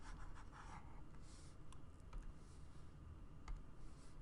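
Faint scratchy rubbing strokes of an eraser wiping writing off a board, a few short swipes and soft ticks over a low steady background hum.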